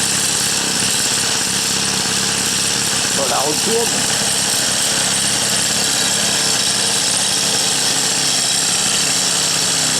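A restored Solex Flash moped engine starts after a few pedal strokes and then idles with a continuous loud buzzing drone, while a person speaks briefly.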